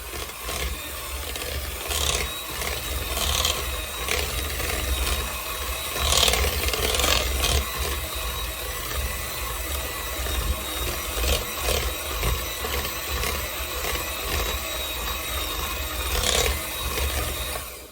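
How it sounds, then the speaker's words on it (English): A spatula scraping down the sides of a mixing bowl as eggless chocolate chip cookie dough is mixed with milk and vanilla, a steady close scraping and rubbing that runs throughout without talk. "make sure you scrape down the sides of the bowl and that you get everything totally incorporated. I'm just using a spatula to do that."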